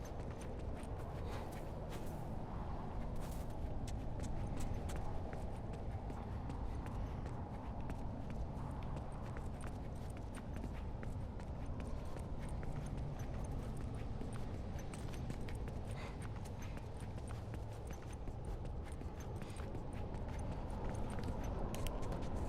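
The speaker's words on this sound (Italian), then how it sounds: "Ehi, sento il cavallo qui dietro." Horse hooves drawing near in The Last of Us: Left Behind, a steady clopping patter under a dense, continuous game soundscape with no talk.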